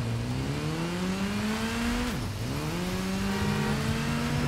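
A heavy motorbike in the Gotham Knights video game revs with a steady droning engine tone that drops sharply midway, then climbs back up and holds, loud and continuous with no talk.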